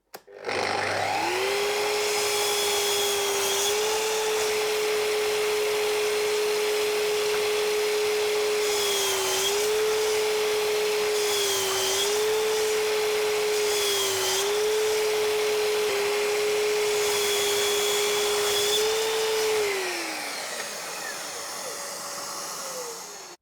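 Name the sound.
Festool Kapex miter saw cutting MDF with dust extraction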